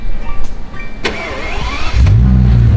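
A Bentley car engine turns over and catches, settling into a deep, loud idle rumble.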